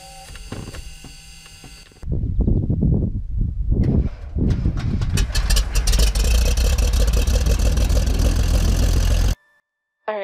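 Engine of a 1974 Cessna 182P Skylane starting up: a steady piston-engine drone with dense harmonics builds after an uneven start, running loud and close before cutting off abruptly near the end.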